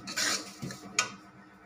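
A spoon scrapes and clinks against a pan while semolina halva, already browned, is stirred; a few short scraping strokes with a soft sizzle underneath, close and moderately quiet.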